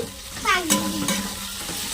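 A spatula stirs fried fish in a pan with ginger garlic paste for a curry, giving a quiet scrape and a couple of short sizzling bursts over soft background frying, heard close with no talk.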